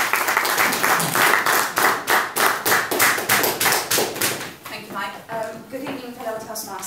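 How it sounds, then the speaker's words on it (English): Audience applause at a Toastmasters meeting: a room of people clapping steadily for several seconds, loud and close, then thinning out toward the end. "I would ask for a large round of applause for Dominica."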